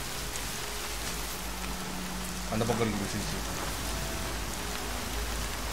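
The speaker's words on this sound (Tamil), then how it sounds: "சமம் மழை பெஞ்சிட்ருக்கு" Heavy rain falls in Horizon Zero Dawn as a steady, dense hiss throughout, with someone speaking briefly over it midway.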